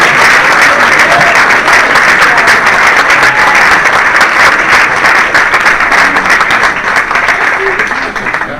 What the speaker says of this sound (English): let's give Doc a round of applause